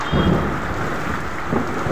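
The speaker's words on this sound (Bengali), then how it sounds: "মেঘ ভাঙা বৃষ্টির মতন একদম ঝমঝম করে হচ্ছে।" Heavy rain pours down steadily during a thunderstorm, a dense continuous roar with low rumbling thunder swelling briefly near the start and again toward the end.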